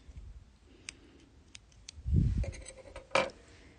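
Scissors snip through beading thread for earrings, giving a few small close clicks and one sharper cut amid quiet handling noises.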